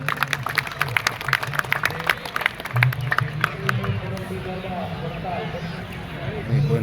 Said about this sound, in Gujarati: આપણે તાળીઓથી બતાવીશું.